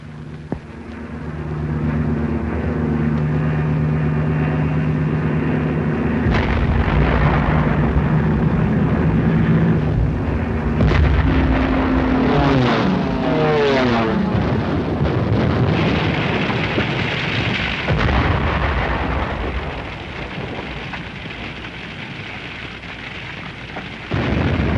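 Bombers drone overhead during the WWII bombing of Rotterdam, their steady engine hum giving way to heavy, rolling explosions and rumbling blasts that fill the sound without any voices.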